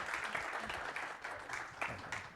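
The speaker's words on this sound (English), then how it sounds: "give our speakers a lovely round of applause" An auditorium audience applauds the speakers after an author talk: a steady, dense wash of clapping that holds throughout at moderate level, with a few sharper bursts standing out.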